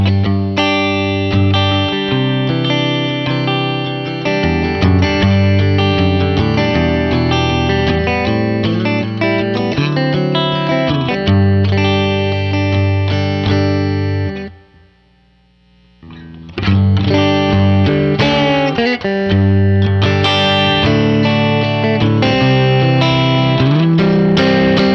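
An electric guitar played through a 1966 Fender Deluxe Reverb amp with a clean tone and no reverb, chords and single notes ringing out continuously, with a brief pause in the middle before playing resumes.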